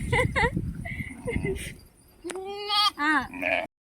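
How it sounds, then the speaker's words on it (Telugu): A lamb bleats several times in quick, wavering cries near the microphone, following a voice talking at the start. "గొర్రె పిల్ల అది మేక పిల్ల కాదు గొర్రె పిల్ల"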